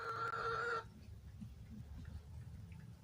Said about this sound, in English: Hopefully you'll see a chicken. You should hear one.